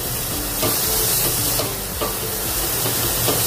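Spices roasting in a pan for a suran (jimikand) sabzi, a dense continuous hiss and sizzle with a few soft stirring knocks, close and fairly loud, without speech.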